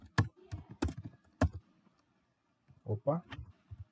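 Computer keyboard keys tapped in short bursts while Linux terminal commands are entered, a few quick clicks followed by a pause and another small cluster.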